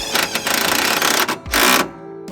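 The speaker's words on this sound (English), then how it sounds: "we'll throw a couple tech screws in" A power driver runs tech screws into a car seat mount in an old DeSoto, whirring in several loud close bursts that end with a final hard seating of the screw.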